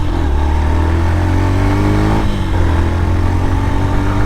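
A Yamaha FZ Rave motorcycle engine revving up and pulling away while being ridden, its loud, close exhaust note climbing in pitch, dipping briefly, then rising again.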